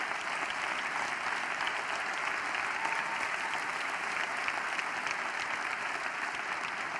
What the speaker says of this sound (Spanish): Y quiero un aplauso para esa generación